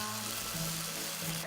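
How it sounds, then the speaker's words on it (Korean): Beef sirloin marinated in bokbunja wine sizzles steadily on a grill, a constant crackling hiss close up with a low hum underneath. "지글지글 소리부터 예술입니다."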